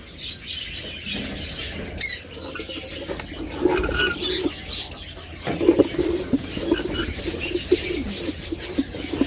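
Caged lutino lovebirds chirp and flutter in short bursts, with wing flaps and scattered tweets from nearby birds against a quiet indoor background.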